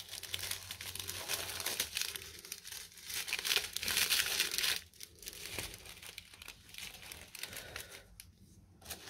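Plastic bags crinkle and rustle continuously as a package is unboxed, loud and close, with crisp crackling bursts and brief pauses in the handling.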